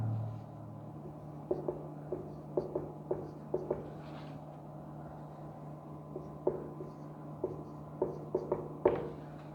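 Marker or chalk writing out a pair of extremely large numbers on a board, heard as a run of light, irregular taps and short strokes in small bursts over a steady low hum, with no talking.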